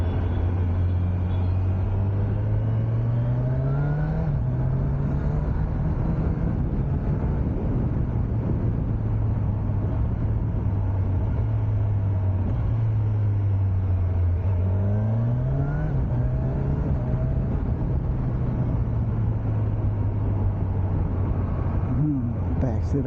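Kawasaki Ninja 1100SX sport-touring motorcycle engine pulling hard on the road, a steady loud drone that rises and falls through gear changes under constant wind rush.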